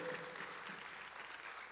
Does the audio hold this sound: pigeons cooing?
no